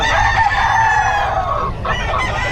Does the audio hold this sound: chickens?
yes